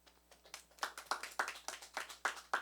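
A small group claps for a teacher at a teachers' book-talk session, a short run of fairly evenly spaced claps that grow a little louder, recorded at a moderate distance with no talk over them.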